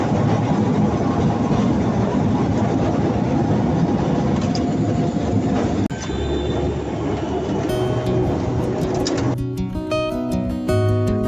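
A Kolkata tram rumbles and rattles loudly along rails near Wellington Crossing, wheels clattering over joints, then the noise shifts as music-like tones and traffic continue toward the end.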